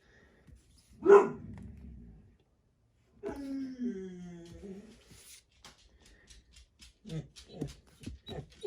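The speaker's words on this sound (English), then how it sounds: "What is it, Odin? You see other dogs? They're in their own yard" A dog barks loudly once at other dogs in a neighbouring yard, a sharp close bark followed by a lull, then a person talks to it with a few faint sounds mixed in.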